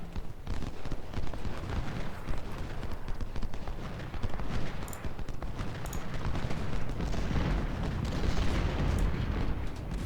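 Continuous dense rumble of cannon and artillery fire in the video game Ultimate General: Civil War, booming and crackling without pause, with a busy battle din throughout.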